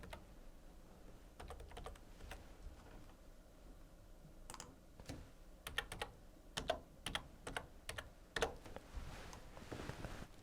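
Keys clatter on a computer keyboard while a resident registration number is entered, irregular bursts of close, crisp clicks with short pauses and a few louder strikes near the end.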